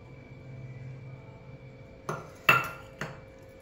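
Upma is stirred in a metal cooking pan: a quiet low hum gives way to three sharp clanks and scrapes of a spoon against the pan, close by, with no talk.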